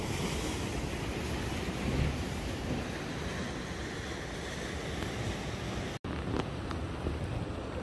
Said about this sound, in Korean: 파도 치는 모습 한번 보세요.